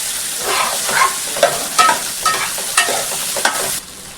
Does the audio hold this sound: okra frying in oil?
yes